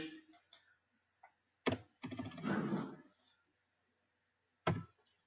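Quiet, sparse keystrokes on a computer keyboard's numeric keypad, with a few isolated clicks and a short burst of typing, recorded close in a quiet room without talk.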